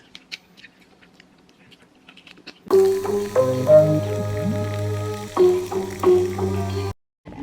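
Steak frying in a pan, starting abruptly after a quiet stretch with loud crackling and popping sizzle and some tonal squeals, then cutting off near the end.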